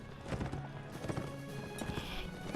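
Horse hooves clip-clop steadily in Mount & Blade: Warband, a quick continuous trot of fairly close footfalls with a faint whinny-like tone, over a busy game soundscape with no talking.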